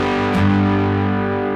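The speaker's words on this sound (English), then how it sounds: "And then the overdrive that I set up." A sustained, thick overdriven chord from a Lava ME 4 smart guitar rings out with dense harmonics, swelling slightly after a pick attack and holding steady.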